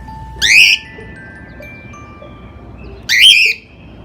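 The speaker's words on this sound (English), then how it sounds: "He's a cockatiel and he really likes to sing in the morning." A pet cockatiel gives two short, bright whistled squawks about three seconds apart, loud and close, over a quiet room hum with faint tones between calls.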